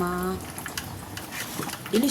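Soft bubbling and simmering of lugaw, rice porridge with camote tops, in a pot, with gentle pops throughout and a person talking over it.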